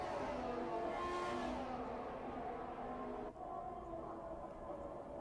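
An F1 car in F1 2018, racing at Bahrain, accelerates with a loud, sustained, high engine whine that swells and then drops off at a gear change partway through.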